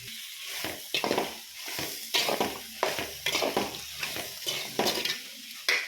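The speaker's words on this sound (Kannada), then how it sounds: "ಇಷ್ಟು ಹಾಕಿ ಚೆನ್ನಾಗಿ ಬಾಡ್ಸೋಣ." Poppy seeds and coriander powder fry in a pan for a country-style mutton sambar, a soft sizzle under repeated close, rhythmic scraping strokes of a spoon stirring them.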